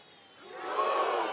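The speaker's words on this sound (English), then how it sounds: "the crowd's getting a bit quieter as we go through" An audience crowd swells into a broad wash of cheering and shouting, rising from quiet to a sustained roar over about a second.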